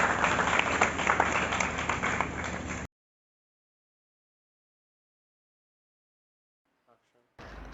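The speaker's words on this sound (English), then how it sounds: "Give yourself a good round of applause." Classroom applause at the end of a computer applications lesson, a dense burst of clapping for about three seconds that cuts off into silence, then returns briefly at the very end.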